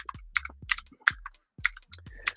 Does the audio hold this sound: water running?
no